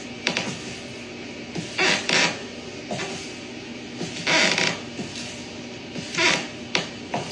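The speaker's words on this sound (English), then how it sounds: "So the homeowner's garage door does not close." A residential garage door on a new-build home that will not close creaks and groans in repeated drawn-out bursts, loud and close, with quieter mechanical rattling between the strains.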